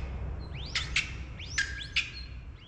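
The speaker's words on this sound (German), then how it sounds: "Das müssen Vögel sein, aber ich habe das noch nie gehört." Several sweeping, whistling bird calls on a mountain road in Mexico, an unfamiliar species, sounding as a few rising and falling chirps spaced over a couple of seconds above a low, steady background rumble.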